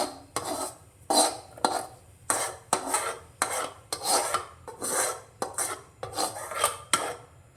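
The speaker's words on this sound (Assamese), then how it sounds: "ইয়াত মই এই কঁঠালৰ গুটি আৰু এইখিনি মই যিখিনি ভাজিছিলোঁ সেইখিনি মই দি দিম।" Jackfruit seeds and fried pieces are tipped and scraped into a cooking pot, heard as about a dozen close, rhythmic rasping scrapes of a spoon against metal, with no talking.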